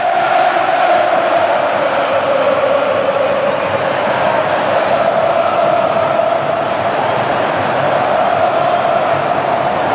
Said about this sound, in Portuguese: A enlouquecida torcida do Flamengo no Maracanã.